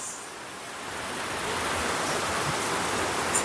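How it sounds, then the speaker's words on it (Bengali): Water poured onto sugar in a pan to make syrup with cinnamon pieces, a steady close rushing pour that swells slightly louder as it goes on, with no talk. "যতটা চিনি ঠিক ততটাই জল দিয়ে দেব।"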